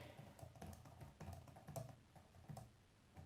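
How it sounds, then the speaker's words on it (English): Typing on a Vido W10 Elite computer keyboard, a rapid, uneven patter of close key clicks and taps in a quiet room. "I was just typing there and the cursor wasn't in Notepad."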